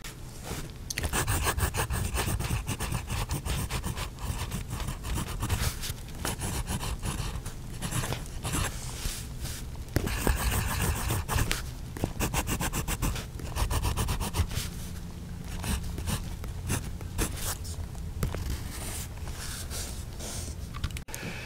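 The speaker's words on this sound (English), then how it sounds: "with the microphone next to the nib, hopefully you've heard how smooth the pen is" A Monman M8 silver fountain pen nib scratches and glides across paper, recorded close up, a continuous dense scraping texture with brief pauses between strokes.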